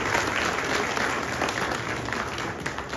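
Audience applause at an official gathering, a steady dense patter of many hands clapping at close range, with no voices over it, running unbroken to the end.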